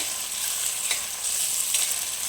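Liver frying with amaranth leaves and ginger garlic paste in a pan gives a steady, close, moderately loud sizzle, with a couple of brief stirring scrapes and no voices.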